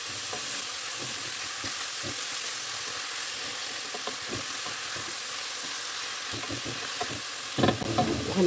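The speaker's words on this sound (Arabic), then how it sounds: "غادي نزيد القرعة، غنحرك مزيان هاد العناصر" Zucchini and mixed vegetables frying in a pan, a steady close sizzle broken by frequent scraping stirs and clicks of the utensil, growing louder near the end, with no talking.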